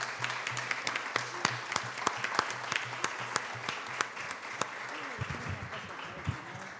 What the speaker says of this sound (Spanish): Yo quisiera que aplaudiéramos a Graciela Galván,